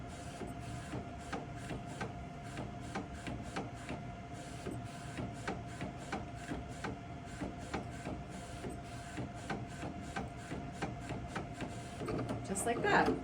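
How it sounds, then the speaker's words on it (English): An Eddie edible ink printer prints an image onto a cookie, giving a steady run of rapid mechanical ticks and whirs from the moving print head, close and continuous, growing busier toward the end. "We'll print another image now. So you can see it printing."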